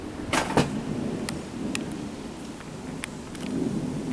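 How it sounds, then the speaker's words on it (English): Thunder rumbles during a storm under a steady wash of rain, with a few sharp cracking bursts early on and a low rolling swell near the end, no speech. "I guess we can watch the storm in peace now"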